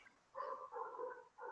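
Several short, faint barks from dogs somewhere in the distance come in three quick bursts under a quiet background.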